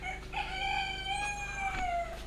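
A Japanese chicken crows once nearby, a drawn-out cock-a-doodle-doo lasting about two seconds and standing out clearly against faint background hum.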